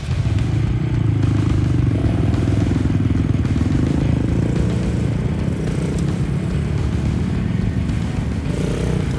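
Several motorcycles of a motorcycle gang pull away, with loud, steady low engine rumble and some rattling clatter throughout, close by and sustained with no talk.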